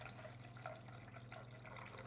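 Hot water running steadily into a container for a gluten-free keto bread dough, a faint, continuous trickling and splashing with no talk over it.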